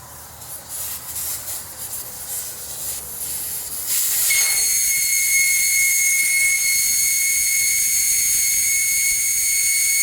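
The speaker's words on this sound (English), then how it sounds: "Waiting on the air to drain out of the tire" Air hissing steadily out of a Mahindra 8560 tractor tire through the open valve stem with its core removed, a loud continuous rush that begins around midway and holds to the end, with no talking.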